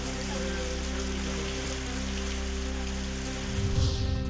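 Steady rain in Nashik district farmland patters on a surface, a constant even wash of drops with a low hum beneath and no voices.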